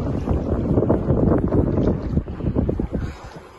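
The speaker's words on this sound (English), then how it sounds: "We are sailing." A sailboat under sail on open water bound for an island near Stavanger, with steady wind buffeting the microphone and a broad rushing wash of water and hull noise, loud and continuous with no talking.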